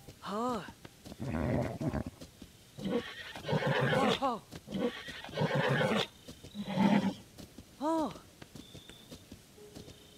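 Horse in The Legend of Zelda: Tears of the Kingdom whinnies several times in clear, harmonic neighs spread across the clip, mixed with talking and in-game sounds.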